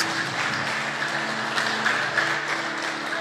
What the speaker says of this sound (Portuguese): Uma salva de palmas para o nosso Deus que vive.